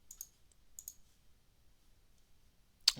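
A few crisp mouse clicks, a quick double click, another pair, then a sharper click at the end, in a quiet room.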